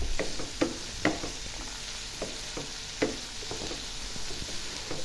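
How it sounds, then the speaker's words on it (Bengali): Vegetables and prawns sauté in a pan under a steady sizzle, with frequent soft scrapes and taps as they are stirred, close and moderately loud. "এই যে দেখুন আমার সবজিটা প্রায় কষানো হয়ে গেছে, আর একটু কষাবো।"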